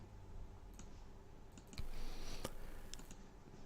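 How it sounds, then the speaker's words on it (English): Faint, sparse mouth clicks scatter through a quiet, staticky home voice recording, several small sharp ticks over a low hiss. "Bunch of my mouth clicking there, sorry."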